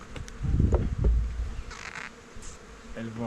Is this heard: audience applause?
no